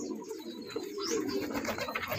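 Pigeons coo softly among a loft of racing or breeding pigeons, a low murmuring coo under steady broadband background noise and rustling, fairly faint and continuous.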